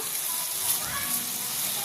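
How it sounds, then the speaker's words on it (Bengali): Chicken frying in a pan in a Hakka chow mein dish, heard as a dense, even sizzle that holds steady and fairly loud for a couple of seconds with no pauses. "আমি ওই চিকেনটার মধ্যে দিয়ে দেব, দিয়ে ভালো করে ভাজা ভাজা করে নেব"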